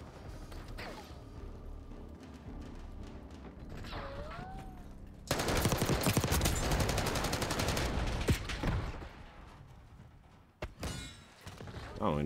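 Rapid automatic gunfire bursts and sharp single shots from an online Face Off match in Call of Duty Black Ops 6, loud and dense for several seconds, with game effects and a player's voice around them.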